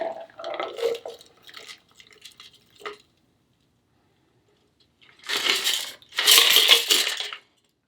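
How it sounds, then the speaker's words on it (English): Bourbon eggnog is strained into a coupe glass: a few faint drips and clinks early on, a pause, then two close bursts of liquid pouring and splashing into the glass, with no talk. "I'm simply going to strain it into the coupe glass."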